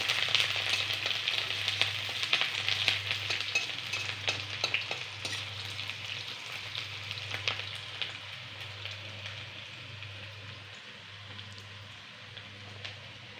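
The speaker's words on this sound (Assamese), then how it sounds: "এয়া পেঁয়াজ দিলে। তাৰপিছত অকণমান লৰাই দিলে।" Onions sizzle steadily in a pan for an Assamese taro curry, stirred now and then with light scraping and crackling, close up and continuous throughout, with a faint low hum underneath.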